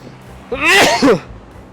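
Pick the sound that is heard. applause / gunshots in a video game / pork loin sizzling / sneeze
sneeze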